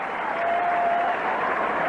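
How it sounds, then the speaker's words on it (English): Notre Dame's student section cheers at a 1984 football game against Purdue, a broad, steady wash of crowd noise and applause throughout, with a commentator talking over it. "Notre Dame student section beginning to cheer"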